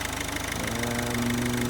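A Peugeot/Citroen 1.6 diesel engine runs steadily after a head gasket replacement, with a loud, even idle and a low rhythmic knock, and the pitch climbs slightly partway through.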